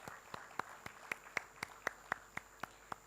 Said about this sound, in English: The applause should keep coming as we felicitate our esteemed guests on dais.